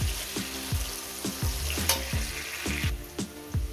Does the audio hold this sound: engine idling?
no